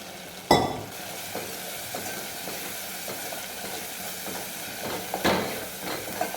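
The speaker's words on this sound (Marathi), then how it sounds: "साधारणतः दोन मिनिट मसाला छान परतून घेते मी" Masala sizzles in oil while being stirred, with a loud sputtering burst near the start, scattered scraping strokes, and a second sharp hissing surge toward the end.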